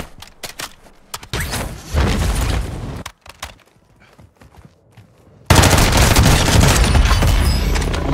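Gunfire in the video game Warzone 2: loud, crackling bursts of shots, a quieter stretch with scattered pops in the middle, then a dense, sustained volley near the end. No talking.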